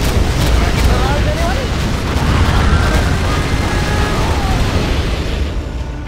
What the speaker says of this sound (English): Rocket barrage, anyone?